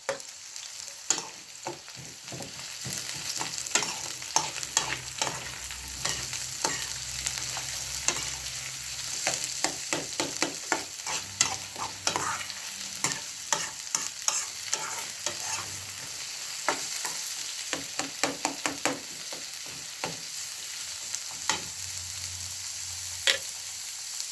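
Onions fry in a cooking pot with a soft, steady sizzle while a utensil stirs them, making frequent scraping clicks and knocks in uneven bursts throughout; no one speaks.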